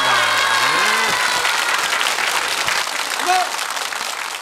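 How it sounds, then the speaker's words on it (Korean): Studio audience applause on a Korean family game show fills the stretch, dense and steady, with a host's voice and other voices talking over it. "정답 박수."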